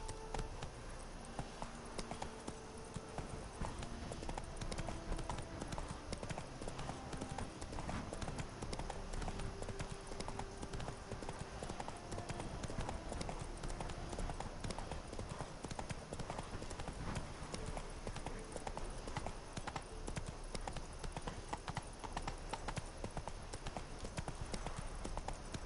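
Hooves of Roach, a horse in The Witcher 3, clip-clop in a steady, continuous rhythm for a long stretch, moderately close, over a dense bed of game ambience and music.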